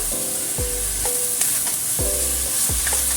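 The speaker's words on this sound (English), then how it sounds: "Then drop in the liquid potato starch. Stir fry, stir fry." Lamb with liquid potato starch stir-fries in a hot wok, a continuous loud sizzle with regular, rhythmic scraping strokes repeating about every second and a half, without talk.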